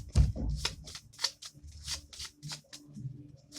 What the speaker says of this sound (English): let's see what our love oracle card I can pull out for my Geminis at this time